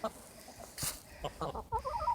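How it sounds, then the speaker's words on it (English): Chickens cluck softly nearby in short, irregular bursts, with a few higher clucks toward the end and quiet outdoor background. "But they're chickens and they're stubborn."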